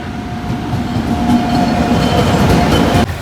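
A train rolling past at close range near Bhavnagar, a loud continuous rumble with rhythmic wheel clatter and a faint squealing tone, ending with a sudden drop in level.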